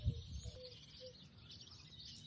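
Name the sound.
small birds chirping outdoors in the morning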